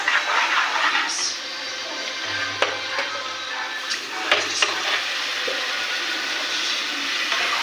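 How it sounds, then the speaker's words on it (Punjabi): French fries frying in a pan, seasoned with Maggi masala, give a steady loud sizzle and crackle throughout, with occasional clinks of a utensil stirring. "ਇੱਧਰ ਬਣਾਵਾਂਗੇ ਫ੍ਰੈਂਚ ਫ੍ਰਾਈਜ਼"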